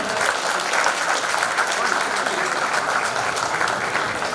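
Steady, dense applause from an audience at a school reunion felicitation, where an honoree receives a shawl and bouquet; loud, continuous clapping fills the whole stretch without pause.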